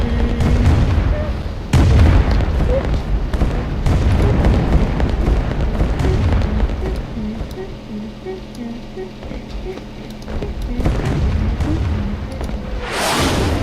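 Bombing explosions in the strategy game Rise of Nations, a dense run of booms and blasts that keeps rolling under a voice talking, loud at first and easing off near the end.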